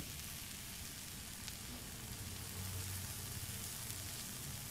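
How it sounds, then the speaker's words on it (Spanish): Meat sizzling in broth on a Lidl Tartar grill, a steady soft hiss and crackle like light rain that continues evenly throughout. "ya puede empezar a colgar la carne en los ganchos para que se empiece a freír"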